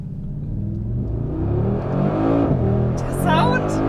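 A Brabus 800 Adventure XLP G 63 pickup of about three tonnes accelerates hard, its engine rumbling low and building in a rising roar, with people talking inside over the noise.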